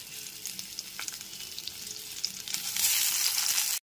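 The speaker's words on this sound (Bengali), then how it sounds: "ওই একই তেলের ভিতরে লবণ ও হলুদ মাখানো বেগুনের টুকরোগুলোকে দিয়ে দিচ্ছি।" Salted, turmeric-coated eggplant pieces go into hot oil left over from frying potatoes, giving a close, steady sizzle that swells noticeably louder toward the end before cutting off abruptly.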